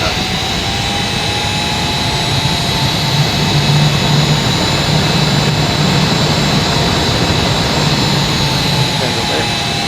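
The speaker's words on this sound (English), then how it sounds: "Gonna run up the right burner." A simulated F/A-18E Super Hornet runs up its right afterburner, producing a loud, continuous jet roar with a high whine layered over it. The sound holds steady for the whole stretch and nothing else breaks through it.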